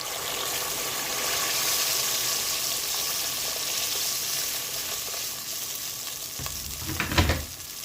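Onion and tomato paste frying in a pot for Tunisian bulgur, with a steady broadband sizzle throughout and a louder burst of stirring and bubbling near the end, no voices.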